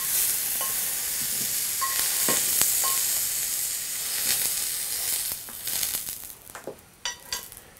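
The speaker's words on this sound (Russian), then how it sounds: "Теперь на раскаленную сковородку чуть-чуть масла. Куски трески." Pieces of cod sizzle and crackle steadily in a little oil in a hot pan, with a few utensil clinks and scraping stirs over the hiss.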